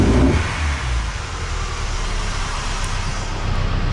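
A running car engine rumbles steadily with a low, throbbing, pulsating exhaust note at the tailpipe, close and continuous, with no one speaking.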